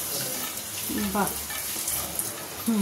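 Luchi frying in hot oil gives a steady, close, low sizzling hiss throughout, with a few faint scraping sounds and a soft background voice-like hum.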